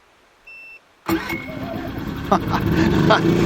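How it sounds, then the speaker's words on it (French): An EcoFlow Smart Generator's engine is started electrically after a brief beep: the motor catches abruptly and settles into a loud, steady running rumble close by. "glisser pour démarrer le moteur"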